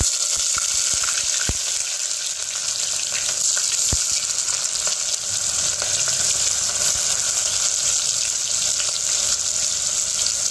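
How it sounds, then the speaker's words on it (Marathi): Sliced onion drops into hot oil already tempered with fennel and a red chilli, giving a steady close sizzle with a few faint clinks from the pan and no voices. "तर आपण हा स्लाइसेसमध्ये चिरलेला कांदा आहे तो त्याच्यात टाकूया"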